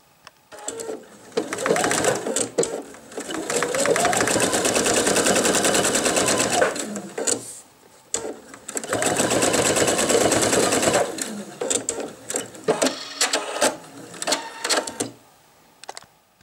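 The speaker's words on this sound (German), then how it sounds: "Wir nähen jetzt eine lange Seite und eine kurze Seite ganz knapp." Sewing machine stitching the closure of a men's wallet, fast rattling runs in two long bursts separated by short pauses, then shorter stop-start stitching, close and fairly loud.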